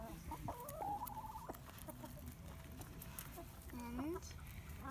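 Backyard chickens clucking and squawking while being fed mealworms, several nearby birds calling in short bursts with people talking over them.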